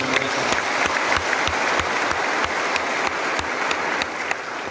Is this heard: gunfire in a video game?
no